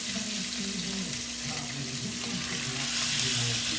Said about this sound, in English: so I'm gonna put the pork chops in now.